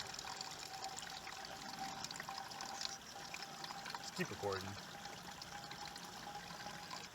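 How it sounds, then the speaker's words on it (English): Water trickles steadily from a CNOC dirty bag through a Sawyer Squeeze gravity filter, a faint continuous stream under outdoor ambience, with a brief spoken remark midway. "and then the water starts flowing."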